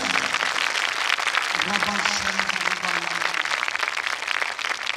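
Loud, sustained applause from a congregation at a prayer meeting in Ranchi, dense clapping filling the whole stretch with a voice briefly audible underneath.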